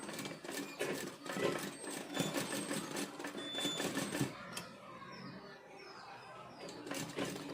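A sewing machine stitching stone lace gives rapid, rhythmic needle clatter in close bursts. It pauses briefly, then resumes more faintly, with a person talking alongside.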